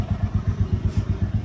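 A Bullet motorcycle engine thumps at idle, close and steady, with a fast even chugging pulse and no other sound over it.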